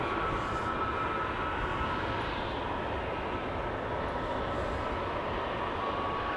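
An ITA Airways Airbus A321neo departs Amsterdam Schiphol with a continuous broad jet roar, steady and loud throughout, with no speech over it.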